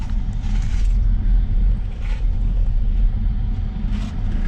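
Steady car engine drone with low road rumble while climbing the narrow Grossglockner pass road in the Alps, loud and continuous throughout without any talk.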